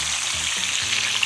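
Chicken browns in a pan, giving a close, continuous crackling sizzle with no pauses and no voices.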